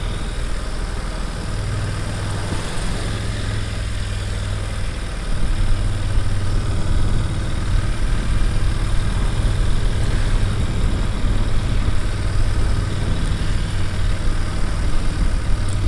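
BMW F850GS motorcycle engine running on a mountain road, a steady low drone under wind rush that swells slightly partway through, with no voices.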